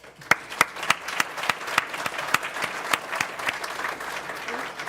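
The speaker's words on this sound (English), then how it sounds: "Big round of applause." A graduation ceremony audience for powerline technicians applauds: a steady wash of many hands clapping, with sharp individual claps popping out at an irregular rhythm, fairly close and loud throughout.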